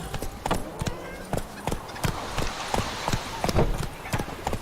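Roach, Geralt's horse in The Witcher 3, gallops in a fast, even beat of loud, close hoof strikes, with some speech now and then over the hoofbeats.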